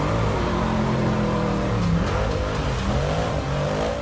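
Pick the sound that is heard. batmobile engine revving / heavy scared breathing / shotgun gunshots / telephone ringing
batmobile engine revving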